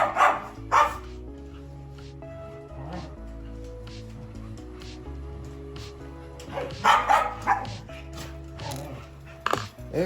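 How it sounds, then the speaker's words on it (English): Several dogs bark and yip in bursts while playing indoors in the background, sharp barks clustered at the start and again midway over a low steady hum, with quieter whimpers between. "Excuse the dogs playing in the background."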